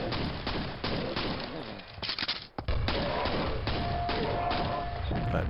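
Rapid gunfire bursts from shooting in the video game Quake, dense and loud, with a brief lull and a heavy crash before firing resumes.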